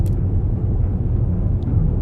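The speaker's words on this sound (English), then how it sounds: "Engines pulsating. Ready to engage." Spaceship engines in the Starfield video game give a steady, deep pulsating rumble, loud and constant, heard alone.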